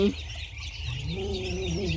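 Ducklings peep and cheep near the start at morning feeding time, followed by soft continuous chirping against a steady low background hum.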